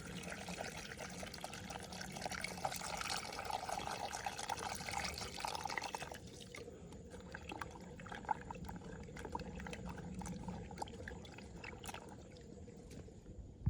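Running water while peeled shoots are washed by hand, a continuous close splashing and trickling that thins to a lighter flow with drips and small knocks partway through.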